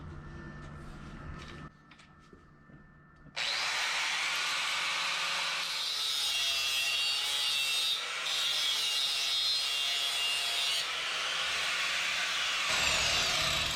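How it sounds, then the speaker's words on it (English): An angle grinder fitted with a cutoff wheel trims the rear lip on a Jeep Renegade, a steady loud abrasive whine after a short quieter start, running continuously close by. "we're going to just use an angle grinder with the cutoff wheel to trim off the back lip"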